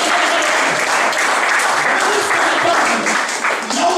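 Church congregation clapping together during a sermon, dense sustained applause at full volume for the whole span, dipping slightly near the end.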